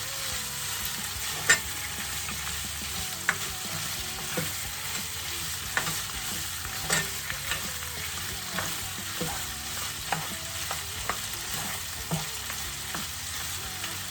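Smoked turkey and mushrooms being turned in a hot pan over high heat, a continuous soft sizzle punctuated by frequent light clicks and scrapes of the utensil, with no talking.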